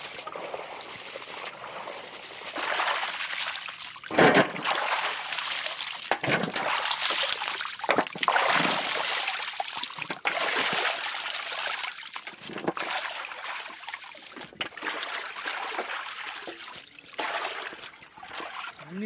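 Water pours and splashes in uneven bursts, trickling and sloshing close by for a long stretch with brief pauses.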